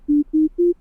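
Simple polyphonic synthesizer producing a pure sine wave tone, three short beeps in even rhythm with smooth ramped onsets and releases, clean and alone.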